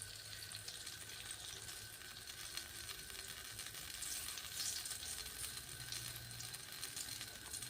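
Cumin and mustard seeds crackling in a spoonful of hot oil for coriander chutney, a steady close sizzle with fine popping and spitting running throughout at even loudness.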